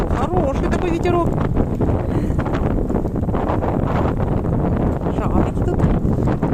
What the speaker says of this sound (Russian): Ух, какой порыв-то пошел